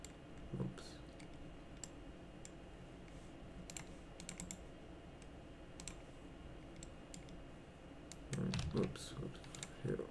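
Intermittent typing on a computer keyboard during 3D modeling work, with scattered clicks and short bursts of keystrokes spread through the clip, close and fairly quiet, plus a faint low voice near the end.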